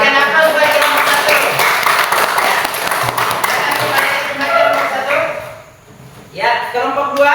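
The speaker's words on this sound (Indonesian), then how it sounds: "berikan aplaus buat kelompok 1" An audience of teachers in a school classroom claps for a group that just presented, a steady patter of many hands mixed with voices, fading briefly before talk resumes.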